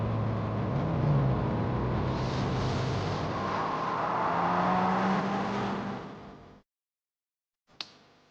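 A Ferrari 355 sports car engine drones loudly and steadily at speed, rising and falling slightly, then cuts out abruptly, followed by a brief click.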